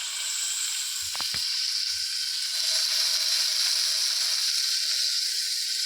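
Spicy chicken pieces frying in a pan with a steady, even hiss of hot oil, close and continuous, with a couple of brief low knocks near the start.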